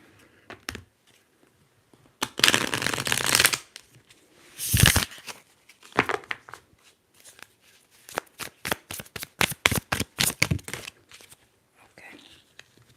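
Tarot cards are shuffled up close in quiet surroundings, in several separate bursts of riffling and snapping card sounds with short silences between them.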